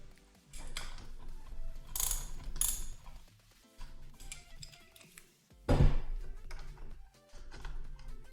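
Ratchet wrench loosening bolts on a Boosted Board electric skateboard to fit new belts, close bursts of quick clicking separated by short pauses and one louder clunk.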